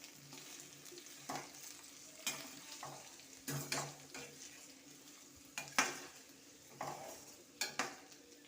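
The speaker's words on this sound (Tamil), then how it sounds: "இதை நல்லா வதக்கிக்குவோம்." Onion and capsicum sautéing with salt in a pan, a quiet sizzle punctuated by irregular scrapes and clinks of a spatula against the pan, close and soft, with no talking.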